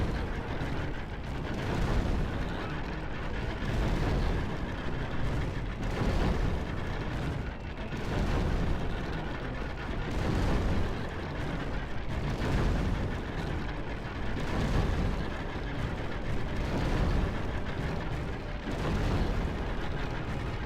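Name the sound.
onagers lobbing rocks in a video game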